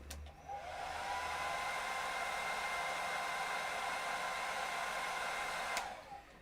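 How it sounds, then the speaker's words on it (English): A hair dryer blasts steadily for about five seconds while drying paint on a miniature figure, starting and stopping cleanly. It is a close, even hiss of rushing air with no talking. "Let's get the hairdryer."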